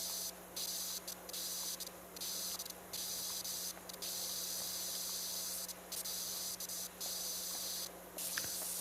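Pressure washer spraying in the video game PowerWash Simulator 2, a loud continuous hiss of water jet cutting briefly on and off in short gaps, with a steady low hum underneath.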